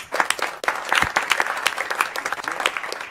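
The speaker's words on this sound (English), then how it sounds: "You all deserve a big round of applause." An audience at a press briefing in Puerto Rico with Governor Cuomo breaks into applause, with distinct, sharp, uneven claps close by and continuing steadily for several seconds.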